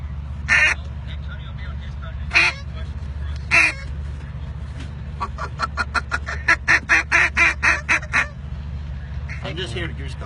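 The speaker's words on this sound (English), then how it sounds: "I'm just here to goose call." A hand-blown goose call sounds at an advanced calling demonstration: three separate loud honks, then a quick run of about a dozen short clipped honks and a final burst, close and over a low steady hum.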